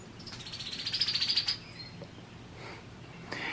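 A bird sings a quick rapid trill of bright chirps nearby, followed by softer scattered calls against quiet outdoor background.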